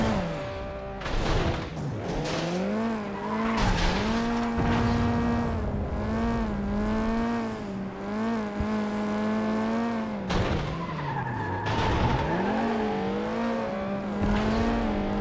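Race cars in the video game FlatOut 2 drone and whine with steady engine tones that rise and fall through gear shifts, loud and continuous, with brief skids and no talking.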